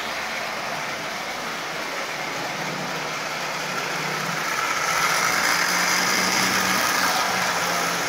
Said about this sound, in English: it's a running locomotive. A good running motor, actually.